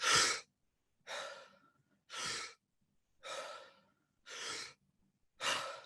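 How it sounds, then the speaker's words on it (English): A person doing a breathing exercise, six evenly spaced breaths about one per second, each a sharp airy inhale easing into a soft exhale, close and clear with silence between them and no talk. "you're going to have a sharp inhale and then a soft exhale"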